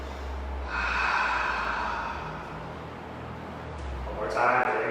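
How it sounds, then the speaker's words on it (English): Two slow, deep cleansing breaths in a power vinyasa yoga class, long audible inhales and exhales through the nose, close and breathy with faint room hum underneath. "Take 2 cleansing breaths here"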